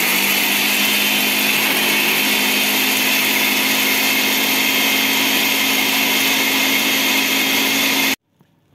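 An Aceline SB-600A blender grinds at high speed, a steady, loud whirring roar that runs continuously for several seconds, then cuts off abruptly.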